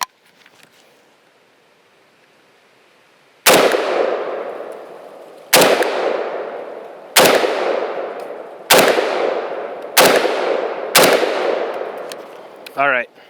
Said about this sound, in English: I'm just gonna put rounds in that circle so I can learn this pistol.